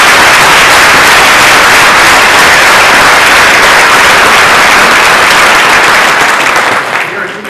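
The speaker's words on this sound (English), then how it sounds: "So I would like everyone to give a round of applause to them." A large audience at a keynote address for a prosecutors' association breaks into sustained, loud applause, dense clapping and crowd noise filling the whole stretch before tapering slightly near the end.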